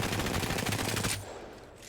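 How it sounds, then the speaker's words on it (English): A rapid-fire weapon in Apex Legends lets off a dense, fast burst of gunfire that stops abruptly after about a second, leaving a fading tail; loud and close, with no speech. "We're going to do one more here. It shoots very rapid."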